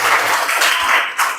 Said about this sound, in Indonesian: Tepuk tangan yang meriah untuk kelompok 1.